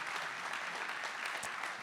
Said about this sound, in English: So you can give another round of applause.